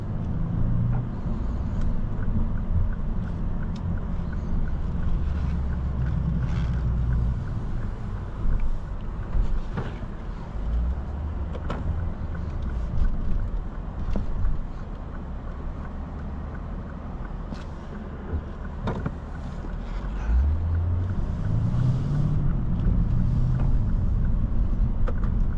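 A 2022 Lexus RC F drives along a road, its engine a steady low drone heard from inside the car, rising and falling in pitch with gear changes and accompanied by road and wind noise.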